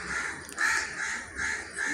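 Several harsh crow caws in quick succession, fairly close, over a steady outdoor background.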